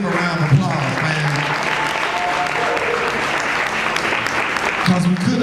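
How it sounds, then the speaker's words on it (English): Applause from the crowd at a fundraiser tribute event rolls on steadily, with a voice talking over it near the start and again at the end. "Y'all give Leaf a round of applause"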